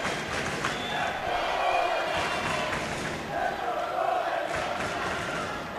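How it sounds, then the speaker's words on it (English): Raucous crowd roaring and cheering in a gym during a girls volleyball semifinal, a steady dense wall of voices with swells and shouts rising and falling throughout. "This is certainly a raucous crowd."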